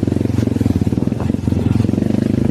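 A motorcycle chugs along a rough trail beside a river, its engine close and loud with a steady pulsing thump. Rattles and clatter from the bumpy ground mix in.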